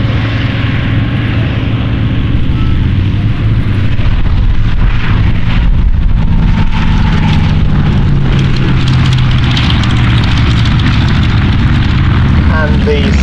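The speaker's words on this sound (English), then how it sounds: "And the southern Martlett get airborne for a red, white and blue formation." A Martlet aircraft takes off at an air show, its engine droning loudly and continuously with a rough, broadband roar, while a voice speaks over it.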